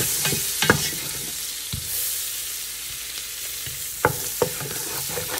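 Butter or fat melting and sizzling in a soup pot for a Tuscan ravioli soup, a steady frying hiss broken by a few sharp spoon clacks against the pot, close and alone with no talk.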